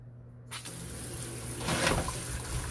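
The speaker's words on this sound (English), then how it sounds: "meanwhile, I'll wash the sweet potato and prepare." Tap water runs steadily into a sink while sweet potatoes are washed for oven baking, a continuous wash of flow starting after a brief quiet moment and swelling slightly, close and alone.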